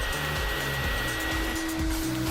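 A cartoon vacuum cleaner runs with a steady whining drone at moderate level, heard in the background under a low pulsing music bed.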